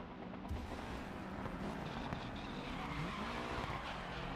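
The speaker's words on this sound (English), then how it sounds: "Every car in this game just sounds so fucking good" Race car engine roars and tyres squeal in the racing video game GRID Legends, a continuous loud engine drone with a rising tone near the end, no voices.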